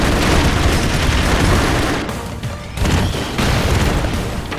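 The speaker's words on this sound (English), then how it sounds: "I love the explosions." Continuous loud rumbling booms from a video game, dense and noisy, with a brief dip before the blasts resume.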